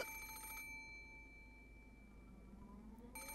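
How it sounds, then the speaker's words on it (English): A telephone rings inside the Umineko When They Cry video game, two bright electronic bell bursts, one at the start and one near the end, separated by a quiet low hum. "The sudden ring of the phone made me jump so hard I thought my heart would explode."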